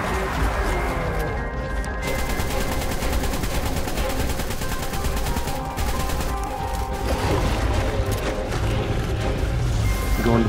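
Sustained rapid automatic gunfire in ARK: Survival Evolved, aimed at the tentacles of the Aberration end boss, a loud, dense stream of shots with brief pauses and mechanical clatter throughout.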